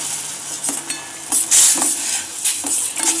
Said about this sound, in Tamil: நல்லா கொதிச்சுட்டு இருக்கும் போதே இதில் வந்து நம்ம கொஞ்சம் ஏலக்காய் போட்டுடலாம்.